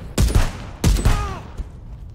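Two loud, close gunshots in the video game Contraband Police, each a heavy booming crack with a short echoing tail, spaced well apart, followed by a fainter thud.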